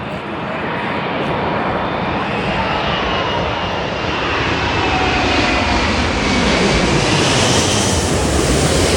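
An Emirates airliner roars overhead at an airport, a loud broadband engine rumble swelling and holding steady as it passes, with faint crowd noise beneath.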